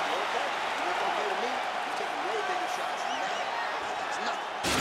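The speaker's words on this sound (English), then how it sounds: "So the crowd voicing its appreciation after that round." Crowd applause and cheering in the video game UFC 4 fill a fight arena after a round, a steady roar with a commentator's voice talking over it.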